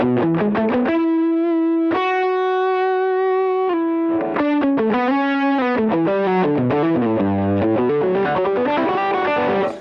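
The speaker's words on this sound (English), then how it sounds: "fuzz has this interesting, almost like oscillating thing if you just play it" Electric guitar with heavy fuzz, loud and close, holding sustained buzzing notes that then move into a run of quicker changing notes.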